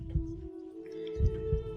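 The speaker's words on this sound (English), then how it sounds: "When ambient is heartbeat, it's never good." Heartbeat ambience in the video game Sorcery 4: a few deep, soft thumps land at uneven intervals over a steady low drone, with no voices.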